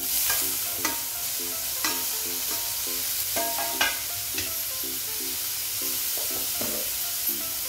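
Chopped tomatoes and browned onion sautéing in a pan for a restaurant-style paneer and peas curry, a steady sizzle with repeated scraping stirs of a spoon against the pan.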